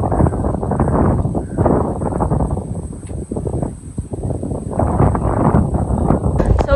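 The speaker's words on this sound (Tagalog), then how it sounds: "Sobrang hangin." Strong wind roars and buffets continuously at a Pacific Ocean viewpoint in Dingalan, Aurora. The loud, dense rumble fills the whole stretch without letting up.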